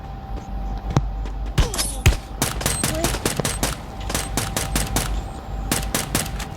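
Rapid bursts of gunfire from the mobile battle game Free Fire ring out in quick repeated volleys, sharp loud shots clustered across the whole stretch over a steady game background hum.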